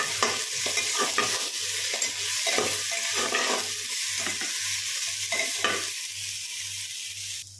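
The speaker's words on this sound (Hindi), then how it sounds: "मूली को भी ऐड कर लेंगे। इन सभी को अच्छे से भूनेंगे।" Potato, spinach, eggplant and radish fry together in a pan for a dhaba-style sabzi, a bright sizzle punctuated by a regular rhythm of spoon strokes scraping the pan, gradually fading slightly.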